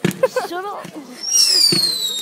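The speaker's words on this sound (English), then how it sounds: "Wow, this is the firework display." Fireworks burst and whistle at an outdoor bonfire display, a short popping crack followed by a rising, sustained whistling shriek, with people talking over it nearby.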